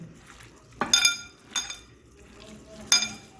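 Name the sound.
hand-mixing stingray mash with mustard oil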